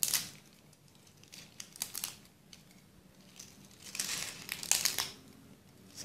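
Dried bay leaves crushed by hand, giving soft, crisp crackles and crinkles in irregular bursts, close and fairly quiet.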